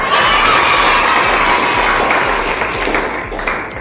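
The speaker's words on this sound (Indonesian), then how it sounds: "Beri tepuk tangannya yang luar biasa." Students in an Indonesian sociology class cheer and applaud a presenting group, a loud burst of clapping mixed with shouts and cheers from children nearby, fading slightly toward the end.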